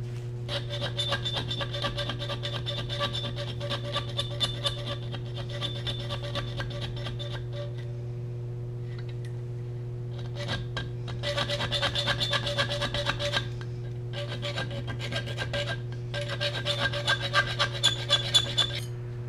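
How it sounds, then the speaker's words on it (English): A Bowie knife blade is worked by hand with a file, giving rhythmic rasping strokes in long bursts separated by short pauses, with a steady low hum underneath. "I can make it work with files and a Dremel"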